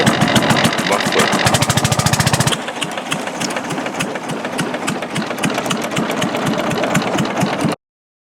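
Inle Lake longtail boat engine running loud and close after a first attempt at a muffler repair, with a fast, rough chugging beat. The exhaust pulses are sharp and rapid, then settle into a slightly slower, steady rattle until the sound cuts off abruptly.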